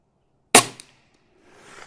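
A single sharp rifle gunshot fired at a target while shooting for groups, loud and close with a brief echoing tail, followed by quiet and faint rustling.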